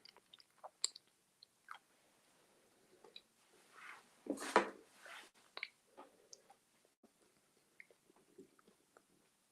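Someone eats a cookie with their mouth closed, giving soft, sporadic crunches and small clicks close by in a quiet room, with a short louder burst of chewing in the middle.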